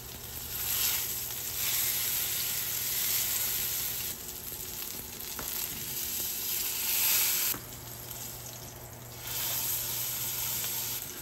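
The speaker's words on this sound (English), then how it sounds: "I'm just gonna go 1 minute on each side to really get that seared in" Pepper-crusted meat sears in a hot pan with a continuous close sizzle that swells and eases as the meat is turned, with a faint hum in the background and no voices.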